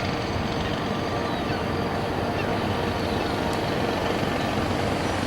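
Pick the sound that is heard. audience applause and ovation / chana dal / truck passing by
truck passing by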